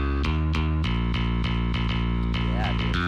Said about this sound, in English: It was like studio bass, full range.